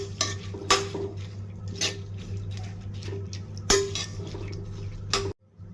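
A spoon stirs lentils with turmeric and chili in a pan, scraping and clinking against the metal in irregular sharp taps over a steady background hum before stopping abruptly.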